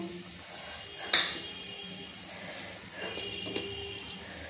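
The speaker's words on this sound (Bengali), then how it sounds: "আমার তো জিরেগুলো খুব বেশি একটা ভাজলে হবে না, অল্প করে ভেজে নিতে হবে" Whole cumin seeds and whole dried chillies frying in hot oil for tempering a fish curry, with a soft steady sizzle, a sharp clink of a utensil against the pan and a few light stirring knocks.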